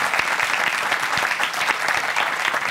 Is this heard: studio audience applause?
yes